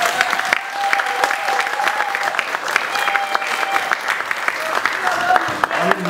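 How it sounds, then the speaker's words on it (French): Crowd applause at a Congolese community gathering in Brussels, dense steady clapping close by, with voices mixed in beneath it. "demander les derniers applaudissements pour Philippe Claus."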